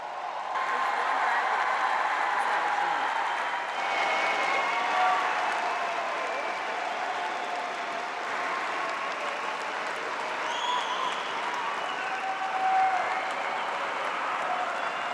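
A graduation ceremony crowd at Clemson claps for new graduates in a steady, moderately distant wash of applause lasting throughout, with a few faint tonal sounds and murmurs mixed underneath.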